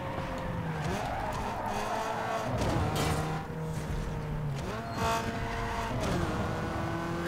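A tuned car races in Need for Speed Underground 2. The engine revs loudly and continuously, rising and dropping through gear shifts, with tire squeals and skids mixed in.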